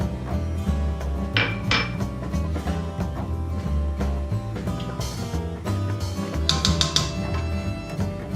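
Minced anchovy being stirred into pasta sauce in a pan for a harlot pasta, with steady clinks and scrapes of a utensil against cookware over a constant low kitchen hum.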